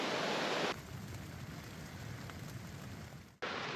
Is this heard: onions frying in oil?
no